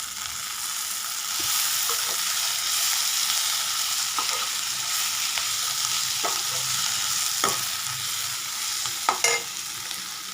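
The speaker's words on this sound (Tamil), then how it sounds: "அப்பப்போ எடுத்து கிண்டி விட்டுட்டே இருக்கணும்" Ivy gourd curry fries in a pan with a steady sizzle, broken by intermittent scraping clicks as a spoon stirs it, with no talk.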